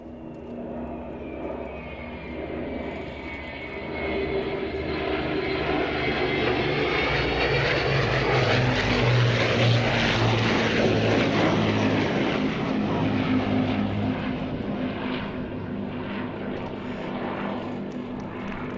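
Jet engines of an Avro Vulcan bomber roar at an airshow, a deep, sustained rumble that swells to a loud peak midway and holds with a howling whine, then eases slightly.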